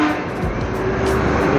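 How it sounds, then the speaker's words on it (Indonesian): Harapan Jaya express bus rolls into Tamanan bus terminal in Kediri, a loud engine rumble with a steady horn-like tone under the busy roar of the station. "Datang lagi bus Harapan Jaya patas ya ini"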